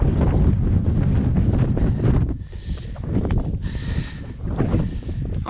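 Strong gusty mountain wind at about 20 to 30 km/h buffets the microphone at Pointe de Miribel, around 1600 metres up in the Alps above Lake Geneva, a loud rumbling roar that swells and eases in waves.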